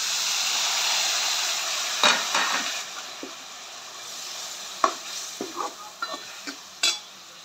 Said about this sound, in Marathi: पेस्ट चांगली लाल होईपर्यंत भाजून घ्यायची आहे।